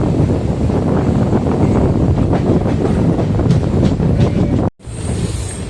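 A passenger train on the Mannargudi to Mayiladuthurai line rumbles loudly along the tracks, with a steady roar, faint rhythmic clatter and wind buffeting the microphone, then a brief dropout before the noise returns slightly quieter.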